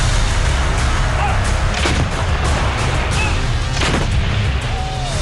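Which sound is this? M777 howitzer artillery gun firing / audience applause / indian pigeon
M777 howitzer artillery gun firing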